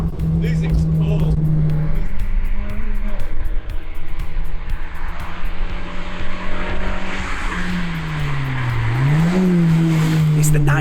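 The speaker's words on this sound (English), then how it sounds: "It revs, it properly revs." A rally car on a wet road, its engine droning and rising as it revs, with tyre noise and a pitch climb near the end, while people talk over it close by.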